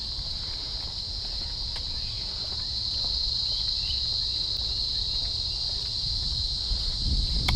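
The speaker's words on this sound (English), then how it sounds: "There's cicadas." Cicadas chirp outdoors in a steady, high, droning buzz that continues throughout, with faint ambient noise and occasional low rumbles beneath.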